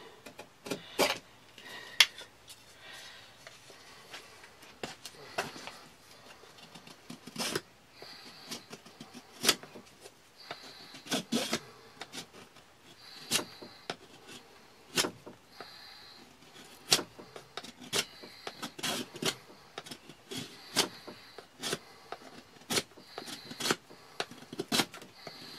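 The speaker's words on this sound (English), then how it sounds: "Right, so I will shave one of these so it's more to a point." A wooden stick being shaved to a point with a blade, heard as a steady series of short, crisp scraping strokes, close and fairly quiet, roughly one every second or two, with no talking.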